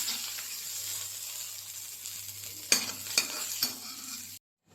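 Fried onion tempering poured into a thick chickpea curry crackles and sizzles steadily, then three sharp spattering bursts follow before the sound cuts to silence, with no talk.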